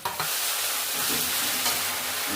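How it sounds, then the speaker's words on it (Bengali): Garlic and ginger paste sizzles steadily in a hot pan for a chicken curry, a constant bright hiss with a faint stirring scrape near the start. "একটু ভেজে নেবো"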